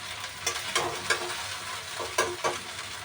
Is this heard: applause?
no